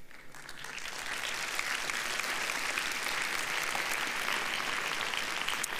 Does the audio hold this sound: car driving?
no